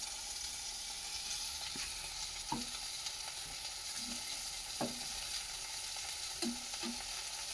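Brinjal (eggplant) slices frying in a home kitchen, a steady faint sizzle with occasional soft stirring or turning clicks, no voices.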